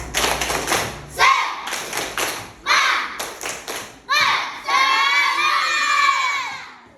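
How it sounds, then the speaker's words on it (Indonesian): Schoolchildren in a classroom perform a tepuk semangat clapping chant, shouting in loud group bursts punctuated by claps and thumps. The bursts come in quick succession and end in a longer sustained cheer. "Ayo kita tepuk semangat dulu."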